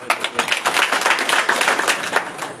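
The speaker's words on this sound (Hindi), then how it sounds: "भाई का हौसला अफजाई करें, तालियां बजाकर एक बार" An audience at a rural public gathering gives a short, dense burst of hand clapping. Many hands clap quickly and loudly at close range, and the applause keeps going without a break for a couple of seconds.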